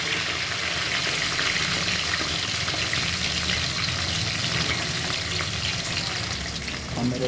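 Onions frying in a pan for vegetable and mushroom pulao, a steady close sizzle that runs throughout with faint stirring, no talk.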